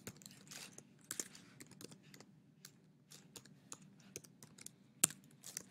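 An email address being typed on a computer keyboard: quick, irregular key clicks, close and quiet, with brief pauses between bursts.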